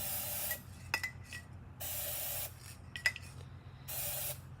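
An aerosol can of looking glass spray lets out three close, loud hissing bursts of roughly a second each, separated by light clinks and rattles of the can.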